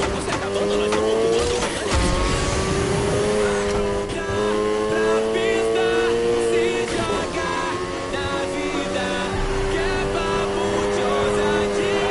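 Engine roar and sustained tire squeal from a car drifting in the racing video game Need for Speed Heat, loud and continuous throughout, with a steady high screech over the motor and a voice talking now and then.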